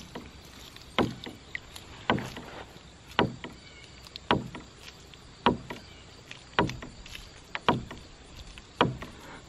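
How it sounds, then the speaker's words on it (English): An underwater ram pump's drive pipe knocks against the side of a small pond, with the delivery fully closed so it hits hard: sharp, regular thuds about once a second, fairly close and alone. "that's the sound of the drive pipe popping against the side of this little"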